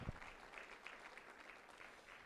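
An audience at a University of Abuja College of Health Sciences event applauds the deputy deans and professors, a steady wash of clapping from a crowd that carries evenly through the short stretch, fairly distant and without voices on top.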